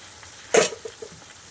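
Hot water hits a pot of braised goat meat with a sudden loud hiss and sizzle, a broadband burst that fades quickly, followed by a couple of faint bubbling pops; no voices.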